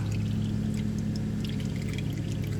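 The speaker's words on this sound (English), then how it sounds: "It's essentially always going to be dripping off this front differential no matter what you do." Oil drains off the front differential of a JA22W Suzuki Jimny in a steady, continuous pouring trickle, with a low hum underneath and no voices.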